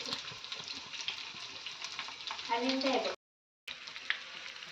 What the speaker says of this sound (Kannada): ಇವಾಗ ನೋಡಿ ಮೀನು ಫ್ರೈ ಮಾಡ್ತಾ ಇದ್ದೀನಿ